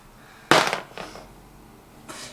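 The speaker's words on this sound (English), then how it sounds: "Yeah, you hear gunfire. Well, blaster fire." A sharp Star Wars blaster blast hits, followed by a fainter second shot and a later third, each a short burst of bright zapping fire over quiet background.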